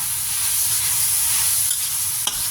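Minced fish and long beans are stir-fried in a pan, giving a loud, steady hiss of sizzling oil up close, with a brief utensil clink near the end.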